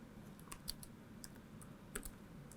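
Soft, sparse keystrokes on a computer keyboard while C code is typed, a few quiet clicks scattered irregularly against a low background hum, no speech.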